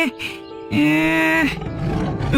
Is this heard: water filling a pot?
no